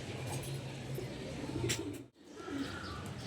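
Pigeons coo softly in a rooftop loft, low murmuring calls under a steady wash of background noise with a brief dropout midway.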